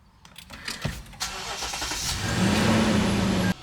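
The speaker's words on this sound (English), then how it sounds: "We're going to go ahead and start our vehicle." A 2017 Lexus GX 460 engine starts up nearby. Faint clicks come first, then a brief crank and catch, and the engine settles into a steady, rising idle hum with a whining tone before stopping abruptly.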